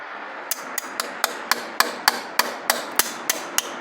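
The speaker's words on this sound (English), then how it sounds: "so you can hammer it in and then just sort of cut that Celastic" Steady, evenly spaced hammer strikes drive a sharpened blade into Celastic, about a dozen sharp metallic taps in quick rhythm, close and clear with no talking.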